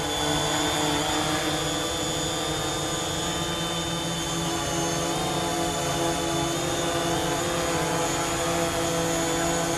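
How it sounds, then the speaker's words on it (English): A DJI Mavic Pro drone fitted with Master Airscrew propellers hovers close by, giving a loud, steady high-pitched whine with a constant buzzing tone that holds evenly throughout. "they sound good. It's clear they're making a difference on the RPM of the drone."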